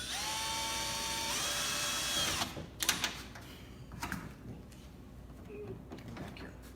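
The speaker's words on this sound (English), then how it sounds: "I'm gonna put a couple screws to hold this rock in place." A power drill drives screws to hold a molded rock in place, its steady whining tone running for about two seconds and then stopping, followed by a few scattered knocks and handling noises.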